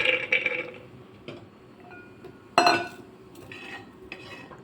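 Soaked kabuli chickpeas tumble into a pressure cooker in a few short clattering bursts, with one louder rattling spill midway and quiet gaps between.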